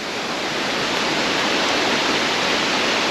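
Wharnley Burn waterfall in County Durham pours with a loud, constant broadband rush of falling water and flowing river, unbroken and steady with no voices.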